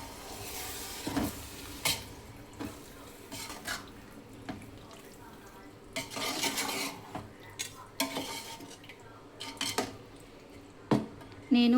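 Chicken biryani ingredients get mixed by hand or spoon in a metal vessel, giving close, uneven scraping and clattering strokes with short pauses, moderately loud and without talk.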